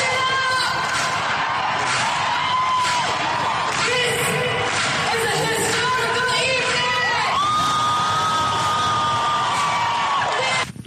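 A concert crowd in an amateur recording cheers and shouts loudly and continuously, with whoops and sung or wailing tones rising above the din.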